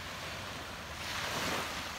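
Calm ocean waves wash ashore at Lewes beach in Maryland, a steady soft surf hiss that swells slightly louder midway, with some wind noise and no voices.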